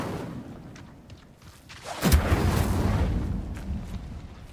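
An Incendio fire spell cast in the Hogwarts Legacy video game: a low rumble gives way to a sudden loud whooshing burst partway through, then a sustained roaring, crackling blaze that holds steady to the end, with no voices.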